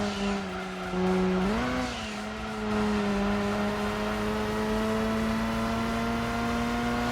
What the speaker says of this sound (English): I've always loved the sounds of the RX-7 in this game.